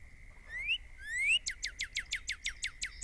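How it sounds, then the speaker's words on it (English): A cardinal calls in Fishing Planet, the video game, starting with two rising whistled slurs. A quick run of about ten sharp, repeated chip notes follows, fairly clear against a quiet outdoor background. "I'm pretty sure that's a cardinal."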